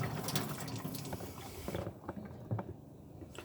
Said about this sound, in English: we've got water flowing out of every tap